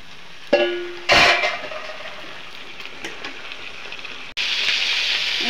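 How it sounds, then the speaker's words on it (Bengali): Chicken pieces frying together in a pan, with a few sharp clatters and a brief tone early on, followed by a steady hiss that grows louder near the end. "এখন চিকেনগুলো একসাথে ভাজা নিব।"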